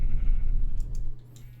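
Minecraft sheep bleating inside a redstone farm with an observer and dispenser that shears them. Short tonal bleats rise over a steady low game hum, then the background drops quieter near the end.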